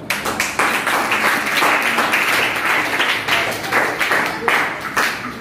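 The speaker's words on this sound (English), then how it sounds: "Big clap for her." Classroom applause for a student during a chemistry lesson, close and fairly loud, with brisk uneven clapping from many hands throughout.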